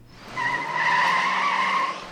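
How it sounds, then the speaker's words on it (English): A car peels away with a sustained tyre squeal, a loud, steady screech that swells and holds for about two seconds before easing, as a dramatised effect. "The daughter gets into her boyfriend's car, and they speed away."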